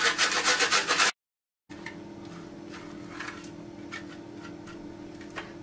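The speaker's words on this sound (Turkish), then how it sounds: "Şöyle bir adet kuru soğanı rendeleyeceğim." A dry onion rubbed against a kitchen grater in a home kitchen: about a second of fast, rhythmic rasping strokes, then a pause before a quieter stretch of faint scraping and light clicks.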